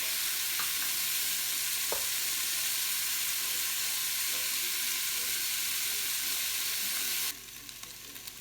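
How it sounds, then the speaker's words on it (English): Tomato paste sizzles steadily in a hot pan while being stirred, a constant close frying hiss with occasional scrapes, cutting off abruptly near the end. "now the paste is cooked a little bit, all right, and I stir it all together"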